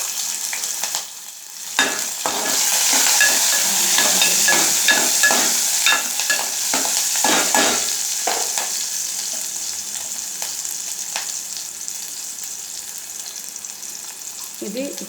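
Tomato tossed into a pan of onion and green chili frying for Rayalaseema ulava charu, with a loud steady sizzle, stirring clatter in the middle, and hissing that settles lower toward the end.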